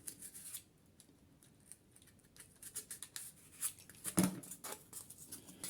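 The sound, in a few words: cutting with a dull blade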